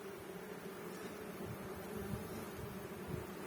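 Honey bees hum around an open hive, a faint, steady, continuous buzzing drone with no breaks.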